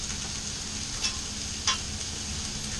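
Minced garlic sizzling in a hot pan with vegetables, a steady soft hiss with two brief sharper crackles, no voices.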